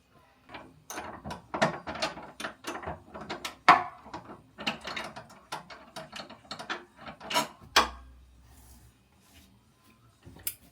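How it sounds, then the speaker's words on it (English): A hand ratchet works on bolts of a dragster, giving quick close clicking bursts in irregular runs with short gaps and rattles, then a low hum near the end. "definitely gonna need the ratchet for that one"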